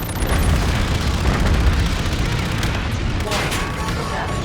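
Heavy ship guns fire in a sustained, booming barrage during a space battle in Call of Duty: Infinite Warfare, loud and dense, with a rumbling low end.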